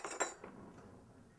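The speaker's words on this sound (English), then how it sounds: "Go ahead and get out a butter knife like you would" A butter knife clinks lightly against a dish while spreading garlic oil, a few sharp metallic taps close by with quiet scraping in between, then a final clink.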